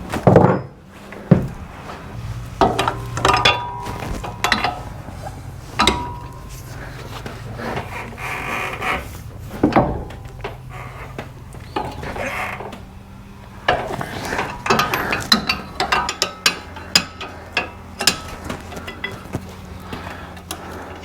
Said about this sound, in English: I need that breaker bar.